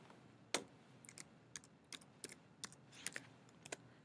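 Keystrokes on a computer keyboard come as a sparse run of about a dozen separate clicks spread over four seconds, close and fairly quiet, with no one talking.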